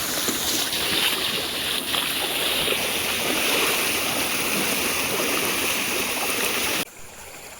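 A forest stream rushes in a steady, loud flow for several seconds at night, then drops away abruptly near the end.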